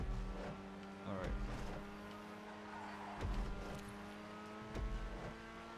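A Grotti Itali RSX sports car is driven in the GTA video game on a flying lap. Its engine drones steadily, rising and falling, with repeated sharp gear-shift pops and surges, and a continuous mechanical whine underneath.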